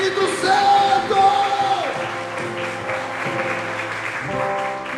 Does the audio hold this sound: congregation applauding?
yes